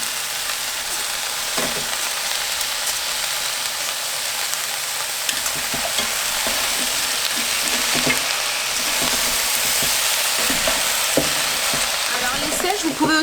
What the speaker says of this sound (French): on va ajouter les poivrons et nos petites sèches et on va les faire cuire 5 minutes ensemble